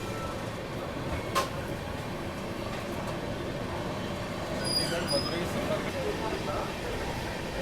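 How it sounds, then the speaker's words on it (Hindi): Steady rolling rumble heard from inside the moving Bihar Sampark Kranti Express as it crosses the WP7-hauled Chandigarh–Madurai Sampark Kranti Express, with a few light knocks and squeaks and a voice speaking at times over the running noise. "और यहाँ पे क्रॉसिंग हो रही है अपनी WP7 के साथ चंडीगढ़ मदुरई"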